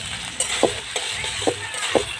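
Ginger-cumin paste sautéing in a pan, a soft sizzle broken by four or five quick rhythmic scrapes and taps of a spoon stirring, close and fairly loud, no voices.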